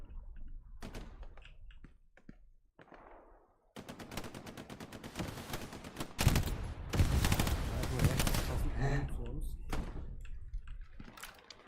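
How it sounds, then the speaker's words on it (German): Game gunfire in a World War style shooter, dense bursts of automatic fire and rattling shots building from scattered pops into sustained loud volleys, with someone speaking briefly early on. "So, Schüsse."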